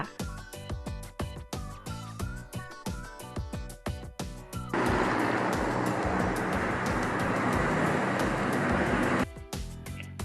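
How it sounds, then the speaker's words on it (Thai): Rhythmic music gives way to a loud, steady roar of a car driving along a road, holding for several seconds before the music returns. "เสียงรถยนต์ที่แล่นอยู่บนท้องถนนนั่นเองค่ะ"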